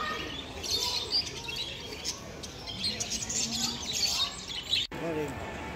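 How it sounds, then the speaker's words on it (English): Many caged budgies, canaries, lovebirds and parrots chirp and tweet together in a busy, continuous chatter over a murmuring crowd background at an outdoor market in Bankstown, Sydney. "there's the birds on the left. You had budgies and canaries and lovebirds and parrots."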